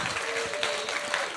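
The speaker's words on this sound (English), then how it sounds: "can we have a big round of applause for Abby, please?" Studio audience clapping for a host, a short burst of dense, steady applause at moderate level with no voices over it.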